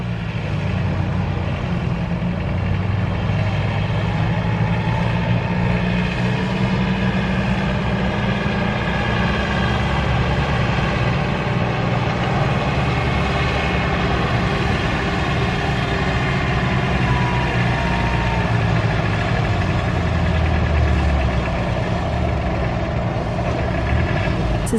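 An International 384 tractor weighing 4600 runs at an antique tractor pull, a steady low engine rumble with a continuous droning hum that holds at a constant loud level throughout.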